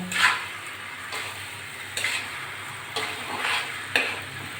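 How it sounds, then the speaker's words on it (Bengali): Mixed vegetables frying in a pan for a Bengali vegetable bhaji, with a steady sizzle under roughly one-second stirring strokes that scrape and rustle at a regular pace, close and fairly soft. "আরো কিছুক্ষণ ভেজে নেব সুন্দর করে"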